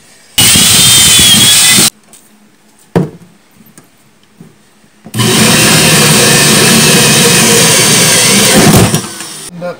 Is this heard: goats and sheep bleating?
no